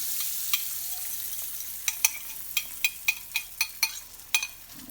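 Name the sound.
egg frying in melted butter in a pan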